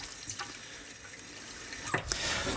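Fresh Kangen electrolyzed reduced water pours straight from the machine in a steady, close, hissing stream, with a couple of brief splashy surges near the end and no talking.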